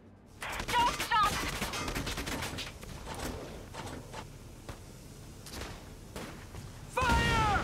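Gunfire and combat in the video game Valkyria Chronicles 4: a loud opening volley of shots and impacts, then scattered bursts, with game voices breaking in briefly and a final sharp blast near the end.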